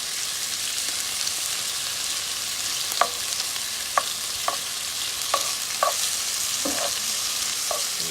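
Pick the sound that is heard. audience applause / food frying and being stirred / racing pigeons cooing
food frying and being stirred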